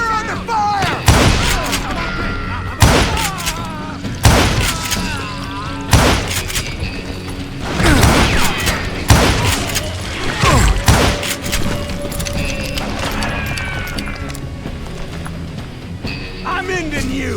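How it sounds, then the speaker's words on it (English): Gunshots in the Wild West game Call of Juarez: Gunslinger, loud sharp cracks every second or two amid a noisy battle, with game music and voices talking throughout. "We're under fire!"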